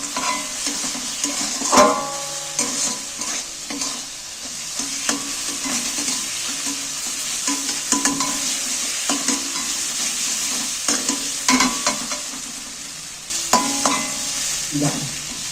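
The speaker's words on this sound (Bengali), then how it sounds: "এবার পুরোটাকে কষিয়ে নিচ্ছি গুঁড়ো মুগের ডাল আর বাদামটাকে এর সাথে দিয়ে আবারও কষিয়ে কষিয়ে নিয়ে নিচ্ছি" Ground moong dal and nuts being stirred and fried in a pan for spicy dal palong, with a steady sizzle under repeated scraping strokes of a spatula, close and moderately loud throughout, no talking.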